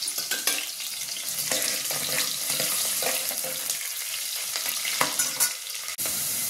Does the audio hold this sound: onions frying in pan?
yes